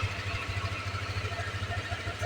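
A 160cc motorcycle engine fitted with a 59 mm MTK block and a new injector idles smoothly nearby, a steady low pulsing thrum with even rhythm and no voices over it.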